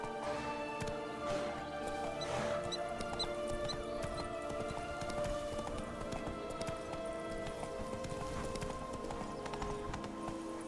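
Horse hooves clip-clop in a steady walking rhythm in The Witcher 3, moderately close under a dense layer of background music and ambience.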